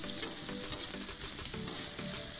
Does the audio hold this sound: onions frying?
yes